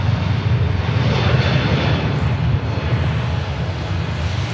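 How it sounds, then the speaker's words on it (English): A Turkish Airlines A321neo departs Manchester Airport for Istanbul, a steady, loud broadband engine roar with deep rumble that holds for several seconds and pulses slightly as it passes. "Turkish Neo heading down on the return leg to Istanbul."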